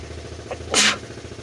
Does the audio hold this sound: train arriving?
no